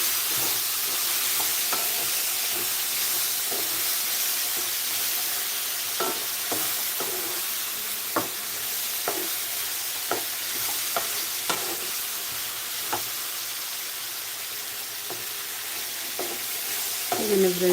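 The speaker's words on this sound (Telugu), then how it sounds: "మళ్ళీ కాస్త కొత్తిమీర వేస్తున్నాను చక్కగా అది మళ్ళీ ఒకసారి కలుపుకోవాలి" A spoon stirs fresh coriander into a ridge gourd and moong dal curry in a pan over a steady sizzle, with repeated scraping strokes against the pan close by.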